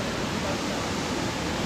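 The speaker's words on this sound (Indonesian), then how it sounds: "saya sudah sampai di kawasan air terjun sini, lebih dekat lagi ya" Waterfall in Brunei's city centre, a steady, loud broadband roar of falling water that fills the whole moment without a break.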